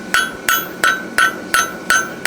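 A hammer strikes a horseshoe clip at a forge, hitting steel seven times in an even, ringing rhythm; each blow is loud and close with a bright metallic tone and a short decay.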